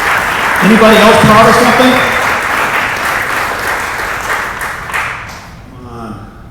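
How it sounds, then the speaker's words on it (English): Audience applause at an energy summit panel on zero net carbon, a sustained burst of many hands clapping that swells early then fades, with a presenter's voice speaking over it near the end. "Give them a round of applause."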